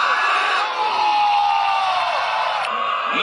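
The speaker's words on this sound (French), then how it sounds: "À vous de l'applaudir et de l'accueillir." A stadium crowd cheers and whoops for PSG player Renato as he is introduced before a Champions League match, a dense, steady roar with shouted whoops rising above it for several seconds.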